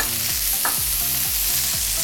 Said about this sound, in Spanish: la verdura queremos lo más suave posible, más cristalina posible, así que la vamos a rehogar